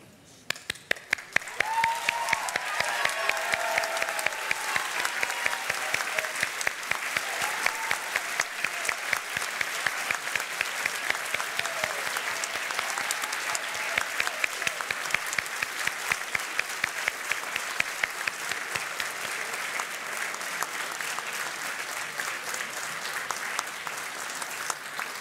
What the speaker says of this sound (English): give a massive cheer and round of applause for all of our loved ones in the room